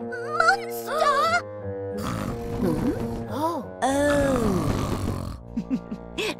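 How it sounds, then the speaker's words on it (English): A cartoon pig snores in loud, drawn-out grunting rasps with wavering pitch, mixed with voiced oinks and snorts, pausing between breaths, with little or no speech. "Just Grandpa Pig snoring."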